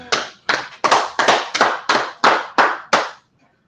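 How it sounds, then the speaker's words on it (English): A brotherhood class claps in unison, nine loud, close, evenly spaced group claps with short reverberant tails, then the room goes silent. "All right, clap it up."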